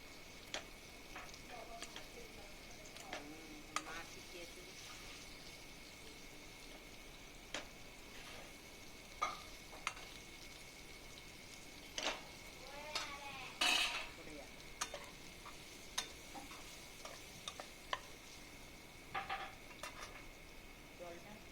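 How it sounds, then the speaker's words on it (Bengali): Boiled olives are mashed with a ladle in a pot for olive chutney, giving a run of soft scraping and clinking knocks at irregular intervals, with a faint steady hiss underneath. "তাই যেহেতু আমার সেদ্ধ করাই আছে, তাই আমি হাতাটা দিয়ে ভালো করে এগুলোকে একটু ম্যাশ করে দিচ্ছি।"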